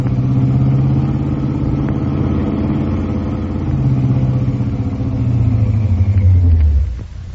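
A car engine rumbling steadily as it drives up around a corner in an old radio detective drama, a loud low drone that swells, then slows and fades near the end.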